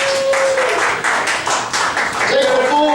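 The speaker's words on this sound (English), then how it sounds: "Give yourselves a round of applause for being here." A bar crowd at a Monday-night show in Jacksonville, Florida gives a dense, loud round of applause that continues steadily, with whistles and voices mixed into it.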